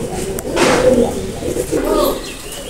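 Pakistani pigeons coo softly in low, throaty murmurs against a steady background hum, with no talking.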